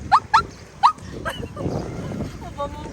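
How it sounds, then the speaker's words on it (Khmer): A dog barks three sharp times near the start, then quieter yips follow amid background noise while people talk nearby. "ឆ្កែគាត់ហ្នឹងក៏អញ្ចឹងទៀតនៅខាងលើឡើងព្រុស"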